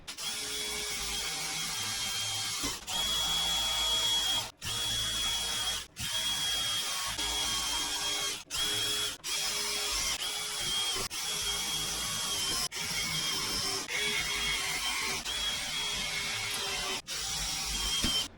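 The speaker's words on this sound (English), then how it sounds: "they're all drilled right through" A power drill bores right through wood while a life-sized sleigh is being built, running steadily and fairly close for most of the stretch, with several brief pauses between bursts.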